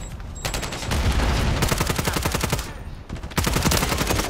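Shotgun and automatic gunfire in a Call of Duty match, dense rapid shots rattling continuously at close range with a brief pause near the end.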